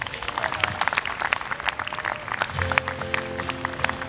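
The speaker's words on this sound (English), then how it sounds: "another round of applause for the gentlemen and ladies of Halau Malua Ki'iwailehua" Audience applause for the hula dancers of a halau at a Hawaiian music performance: dense, steady clapping throughout, with a sustained musical tone entering partway through.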